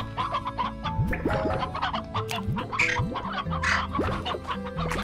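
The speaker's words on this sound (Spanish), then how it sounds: "Vale, gallina, lo pongo en mínimo." Chickens in the video game Slime Rancher cluck and squawk in quick, scattered bursts, loud and near against layered game sounds, with no talking.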